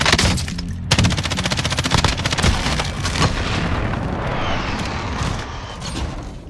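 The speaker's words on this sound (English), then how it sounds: "Allied cluster strike incoming." Rapid automatic gunfire and booming cluster strike explosions in Warzone, with an M13 rifle in play, forming a dense, continuous barrage of sharp bursts and heavy blasts with no talking.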